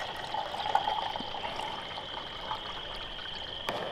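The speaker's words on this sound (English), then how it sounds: "Spill all my water." Water spilling and trickling at a campsite near a lightweight grill, a steady faint pouring stream with a small splash toward the end, no voices.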